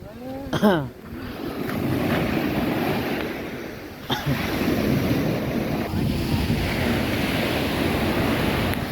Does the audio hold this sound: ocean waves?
yes